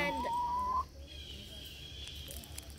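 Chickens clucking nearby in a backyard garden in Maryland, with a drawn-out rising call at the start followed by softer scattered clucks over a low outdoor background.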